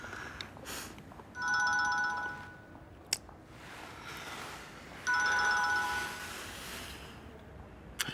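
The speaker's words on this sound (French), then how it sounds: "Excuse-moi, il faut que je décroche, c'est Paul" Phone ringing indoors, two separate electronic ringtone bursts, moderately loud and a few seconds apart.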